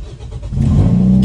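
A car engine fires up after a push-button start, catching with a quick rise into a steady, loud low rumble within about a second, with no talking.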